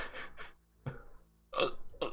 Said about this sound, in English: I've got hiccups now.